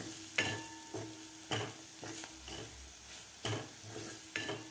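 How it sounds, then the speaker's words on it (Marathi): Gram flour roasting with chopped onions in a pan over medium heat for Maharashtrian tondli bhaji: a soft, steady sizzle broken by several regular scraping strokes of a spatula against the pan, close and fairly quiet, with no talking. "आता हे बेसन पीठ सुद्धा आपल्याला व्यवस्थित असं सुगंध येईपर्यंत आपल्याला ह्या कांद्यामध्ये भाजून घ्यायचं आहे बेसन पीठ."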